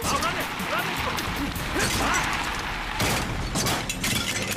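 A motorbike is smashed by a car in a chaotic street scene, with loud, dense crashing and metallic clattering impacts in bursts, while voices shout underneath.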